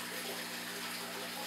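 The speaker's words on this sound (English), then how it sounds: "As you can see, I'm filling the tank right back." Water pours steadily into an aquarium tank during a water change, a continuous broadband rush like a running tap, close and fairly quiet, with a low steady hum beneath.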